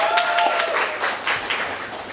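An improv comedy show audience claps to greet a performer, a lively burst of applause with scattered distinct claps, opening over a brief sustained musical tone and continuing loud and uneven.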